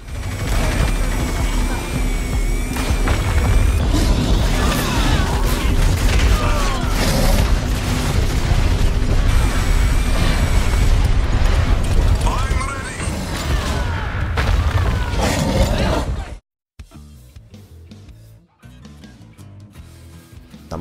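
Bombs pounding a monster in the video game Evolve, a long barrage of heavy, overlapping booms and rumbling blasts for about sixteen seconds that cuts off abruptly, leaving quieter game sounds behind.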